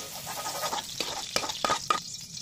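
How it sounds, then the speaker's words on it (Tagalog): Onion is sautéed in a pan for beef with bitter melon, a soft steady sizzle with stirring scrapes and a few sharper clinks of utensil against the pan, fairly close and moderately loud. "Kisahin lang natin konti itong ating sibuyas."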